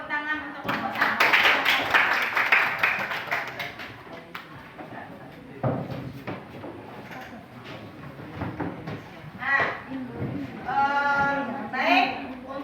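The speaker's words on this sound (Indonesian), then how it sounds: "Beri tepuk tangan untuk kelompok 1" A classroom audience claps for a student group after their presentation, a dense burst of applause that fades into scattered claps, followed by talking voices.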